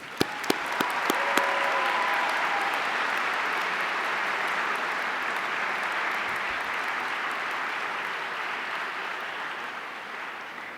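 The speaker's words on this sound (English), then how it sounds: "Please join me in recognizing all of them with a round of applause." Sustained applause from the crowd at a Yale School of Public Health diploma ceremony for graduates, a dense steady clapping that holds evenly loud for about ten seconds and then tapers slightly.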